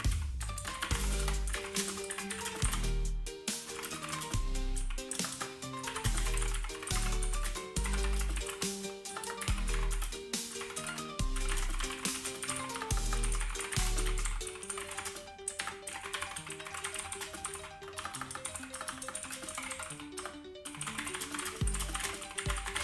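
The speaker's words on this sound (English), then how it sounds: "How are you all enjoying the ASMR Make It typing live stream?" Steady, continuous typing on a computer keyboard during an ASMR typing live stream, with dense close clicks and key taps running throughout alongside a looping electronic music bed.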